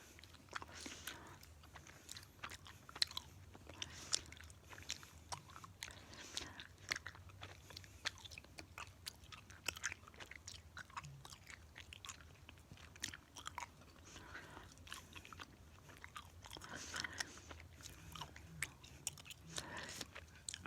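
Juicy bubblegum is chewed close to the mic in a soft, continuous run of quiet wet smacks and crunches.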